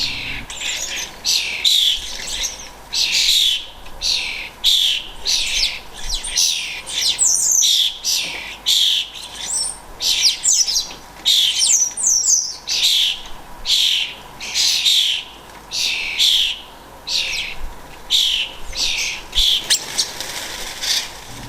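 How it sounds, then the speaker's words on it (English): Baby starlings squawking insistently to be fed, loud harsh calls repeated in quick bursts over and over at close range, with bird chirps mixed in and no talking. "It looks like the babies are the ones making most of the noise. The baby on the bowl screams constantly to be fed."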